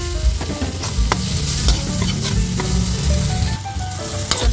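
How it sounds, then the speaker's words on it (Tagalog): Carrots sizzle and crackle steadily in a hot pan as they are stir-fried for chopsuey, with scattered scraping strokes of a utensil over the constant frying hiss, loud and close, no voices. "Isunod na natin guys yung ating carrots."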